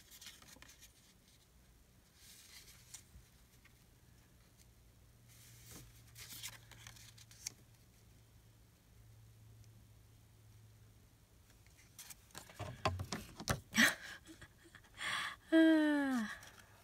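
Scissors fussy-cut paper embellishments in short, soft, close snips and paper rustles. The snipping is faint at first, then grows louder and busier near the end, with no talking.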